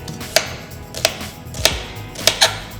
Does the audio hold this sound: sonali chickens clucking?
no